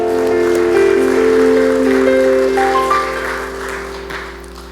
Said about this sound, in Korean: 하나님께 영광의 박수 올려드릴게요